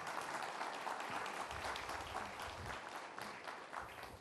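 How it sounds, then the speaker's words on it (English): Steady audience applause fills a hall at the Indo-Japan Conclave, a conference event, with dense continuous clapping at moderate level throughout and no speech over it. "So let's give him a very warm round of applause."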